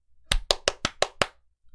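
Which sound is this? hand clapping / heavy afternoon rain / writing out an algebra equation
hand clapping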